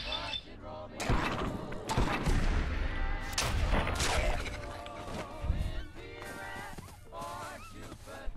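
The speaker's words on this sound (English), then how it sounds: "I'm fucking shooting them." Gunfire in the video game Fallout London: sharp shots pop out at intervals through a dense, loud mix of game music and effects, with someone talking over parts of it.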